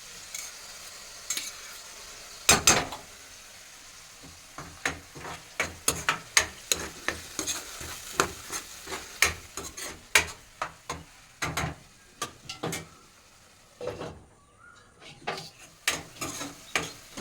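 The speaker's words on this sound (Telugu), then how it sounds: "మిగిలినది అల్లం వెల్లుల్లి పేస్ట్ కూడా వేసేస్తున్నానండి." Ginger-garlic paste and masala frying in a pan for a stuffed brinjal curry, with a soft sizzle under repeated sharp clinks and scrapes of a spoon stirring against the pan, irregular and close.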